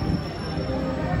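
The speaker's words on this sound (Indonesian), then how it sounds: "itu yang barusan saja tiba adalah kereta api Pasundan ya" Pasundan passenger train, running from Surabaya Gubeng to Kiara Condong in Bandung, arriving at Purwosari station in Solo. A steady, loud rumble of rolling cars fills the moment, with faint wheel squeal on top.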